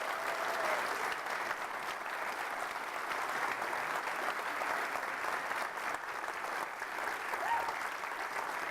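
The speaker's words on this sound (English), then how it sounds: "So would you please give them a round of applause?" Sustained applause from a large staff audience at a school district convocation, steady and even throughout with no voices over it.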